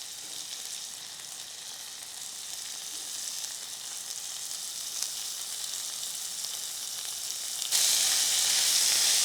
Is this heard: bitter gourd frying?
yes